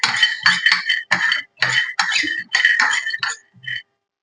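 Raw peanuts being fried and stirred in a pan over a low flame, a string of bright scraping and clinking bursts as the spoon and nuts move against the metal, broken by short pauses.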